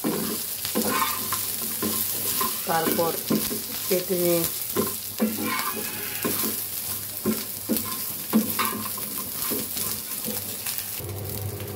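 Dried taki fish sizzles in a hot pan over high heat, with steady frying hiss and repeated scraping, stirring strokes up close while someone speaks briefly.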